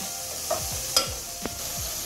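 Cabbage sizzles steadily in a hot pan while a spatula scrapes and stirs it in a few distinct strokes, close up and moderately loud, with no talking.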